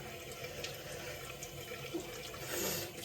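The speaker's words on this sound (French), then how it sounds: "Je n'hésite pas à chaque fois à rincer" Tap water runs steadily into a sink for rinsing during a facial skincare routine, a continuous close splashing flow that swells slightly toward the end.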